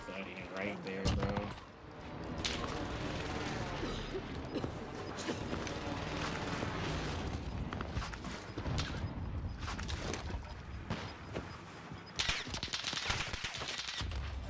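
Rapid bursts of gunfire in a battle royale video game shootout, shots cracking repeatedly over a busy layer of game sounds and music, with heavier volleys near the end.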